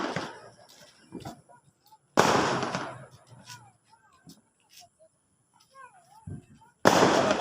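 Diwali firecrackers burst in loud, sharp crackling volleys, separated by quieter stretches with scattered pops and distant whistling, while people talk nearby.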